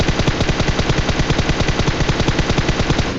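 Rapid automatic gunfire from a battle royale shooter game, a dense continuous burst of loud, evenly spaced shots filling the whole stretch with no talk over it.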